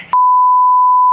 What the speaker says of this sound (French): au montage, on va bien biper tout